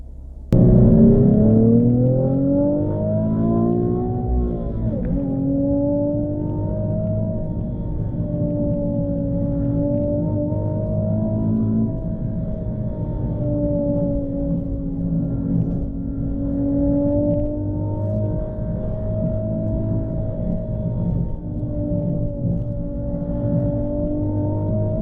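A 2017 Nissan 370Z Nismo engine drones on the highway. Its pitch climbs at first, then settles into a steady, fairly loud harmonic hum with slight rises and dips, with no one speaking.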